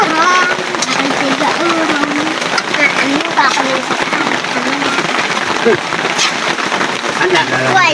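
Steady rain falls during bad weather at a rice-farming home, a constant patter on surfaces beneath a person talking throughout.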